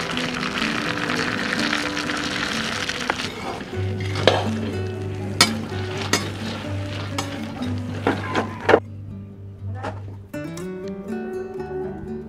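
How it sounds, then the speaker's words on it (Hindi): Peanuts roasting in coconut oil in a pan, with steady soft sizzling under repeated stirring scrapes and sharp clinks of a utensil against the pan, close and moderately quiet. "हम एक कटोरी मूंगफली को नारियल तेल में डालकर उसको भी अच्छी तरह से भून लेंगे"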